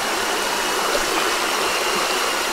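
A small stream trickles over a steep hill trail on Bukit Panau among dry leaves, a constant close hiss of running water that stays even and unbroken throughout, with no voices.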